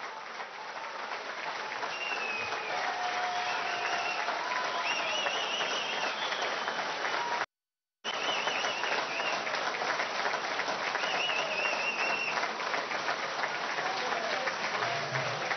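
A large crowd of education ministry workers applauds minister Aristóbulo Istúriz with dense, sustained clapping and some voices mixed in, steady and loud throughout, broken only by a brief dropout midway.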